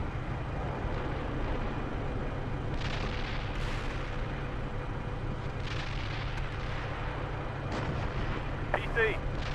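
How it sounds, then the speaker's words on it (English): Artillery fire in a military video game, heavy rumbling booms layered under continuous battle noise, with a sharper burst of fire near the end. "This is India 1, battle position 2-1, under artillery fire."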